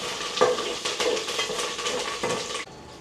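Chicken pieces frying in a pan, stirred with a spatula: a steady close sizzle with scraping and clinks of utensil against metal, continuous for a few seconds before dropping off at the end.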